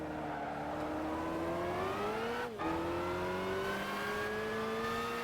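A Honda NSX race car in Gran Turismo 5 screams under steady acceleration, its high engine note climbing, dipping briefly at a quick gear shift midway, then rising again, loud and close with no voices over it.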